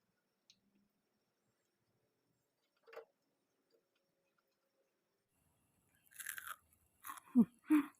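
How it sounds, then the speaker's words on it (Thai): Crispy fried raw banana snack being bitten and chewed close up, a few crunchy bites near the end after mostly quiet moments with a faint tap or two. "ชิมจิ้มหลังกล้องนะคะกรอบมาก ทอดไปชิมไปทุกคน"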